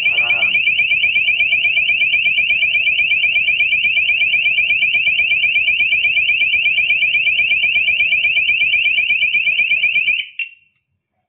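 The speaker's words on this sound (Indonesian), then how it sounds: "lampu merah akan menyala berkedip, lalu akan membunyikan alarm" A motion sensor alarm sounds a loud, steady high electronic tone with a rapid warble, running continuously for about ten seconds before cutting off abruptly.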